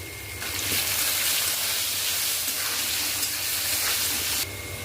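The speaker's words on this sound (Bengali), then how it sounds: "শুকনো লঙ্কা সাদা জিরে কালো জিরে ফোড়ন দিয়ে দিলাম কচুগুলো ছেড়ে দিলাম" Taro pieces hit hot mustard oil tempered with dried red chilli, cumin and nigella, bursting into a loud, hissing sizzle that holds strong for several seconds before cutting off near the end.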